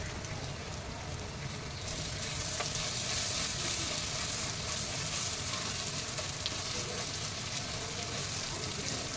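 Chicken with green chillies, turmeric and salt fries in a pan, hissing in a steady, dense sizzle close up, with faint stirring scrapes throughout.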